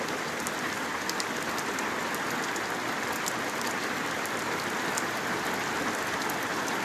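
Heavy rain falls in Güzelyurt, Cyprus, a dense, steady hiss of drops drumming on surfaces that continues without a break, loud and close, with no voices.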